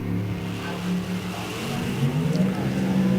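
A Junior Dragster race car at an NHRA National Open drag strip, its engine droning steadily loud for about three seconds, pitch rising toward the end as it accelerates.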